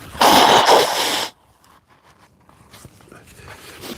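A single loud, close sneeze bursts out, followed by quiet rustling and faint movement sounds outdoors.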